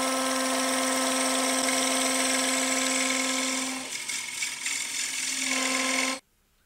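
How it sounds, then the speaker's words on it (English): A steady high-pitched whine of a spinning wood lathe, with a rougher scraping cut from an 8mm beading and parting tool cutting a tenon partway through, then the motor stops abruptly. "8mm beading and parting tool. I'm just going to put a little tenon on here."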